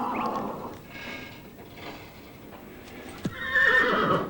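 Horses kept at grazing and rest for blood donation neigh loudly, with one shrill whinny at the start and another toward the end, fainter shuffling and hoof sounds in between, and no talking.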